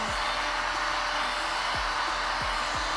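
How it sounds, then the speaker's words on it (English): A heat gun blows steadily while it heats a car's vinyl wrap for removal, making a constant loud hairdryer-like roar. Brief low thumps occur under it, and there is no talk. "Keep a constant motion on your heat gun."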